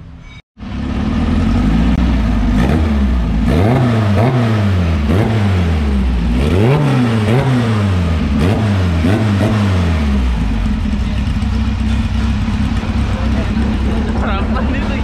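An air-cooled Volkswagen engine, likely in a classic VW, is revved repeatedly in rising and falling sweeps, then held at a steady high drone, loud and close throughout.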